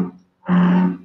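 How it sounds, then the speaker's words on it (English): An American bullfrog gives a single deep, resonant call, a low droning croak that swells loud and close for about half a second after a brief quieter sound. "Listen to the American bullfrog."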